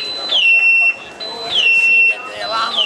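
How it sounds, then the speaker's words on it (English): Boat trailer hitch security alarm blaring with a loud, high electronic siren-like tone in repeating sliding bursts, heard close up at a boat show. "You see that the alarm will go off."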